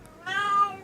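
A house cat lets out a single drawn-out meow, close and fairly loud, rising and then fading over about half a second.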